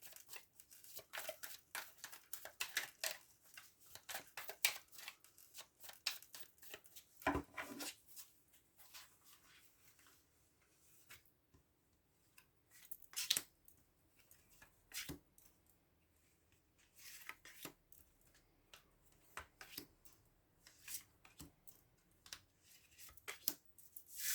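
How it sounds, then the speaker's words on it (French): Tarot cards drawn and handled close up, with quiet irregular rustles, shuffles and soft flicks of card stock scattered throughout and a few sharper snaps, faint overall. "on va prendre 6 cartes pour avoir les messages généraux"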